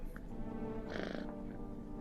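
A cat purrs when petted in the video game No, I Am Not Human, a faint, low rumbling purr with a brief brighter burst in the middle.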